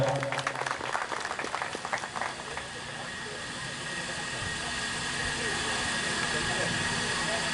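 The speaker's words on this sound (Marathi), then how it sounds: "आपण सर्वांनी जोरदार टाळ्या वाजवाव्या" Applause from an audience at a school felicitation ceremony for guests and donors, a loud burst of clapping that fades into a steady, hissy crowd murmur.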